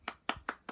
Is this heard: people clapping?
yes